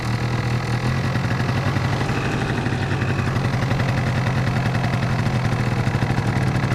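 A two-stroke engine idles with its choke pulled, giving a rapid, even clattering pulse, a crisp steady rhythm holding for several seconds without speech.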